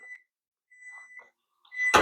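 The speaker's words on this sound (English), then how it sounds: "the timer's about to go off" An oven timer goes off with a bright electronic beep near the end, after a few faint tonal chirps and quiet kitchen sounds.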